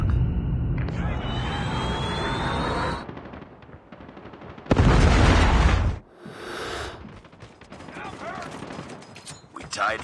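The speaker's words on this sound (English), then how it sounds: "Predator missile inbound" In a first-person shooter video game, a Predator missile strike explodes with a heavy, loud blast midway through, set among bursts of gunfire, mechanical clatter and rumbling aftermath.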